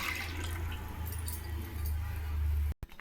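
Wheat milk for wheat kanji is poured into a pan on the stove, a soft, steady liquid trickle over a low hum that stops abruptly just before the end.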